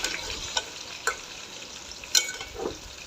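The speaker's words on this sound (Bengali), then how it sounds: "যতক্ষণ না পর্যন্ত সম্পূর্ণ ভাজা ভাজা হবে ততক্ষণ পর্যন্ত নাড়তে থাকবো।" Bitter gourd and shrimp frying in a pan while being stirred: a soft, continuous sizzle with a few light scraping taps from the spoon, fairly quiet and with no talking.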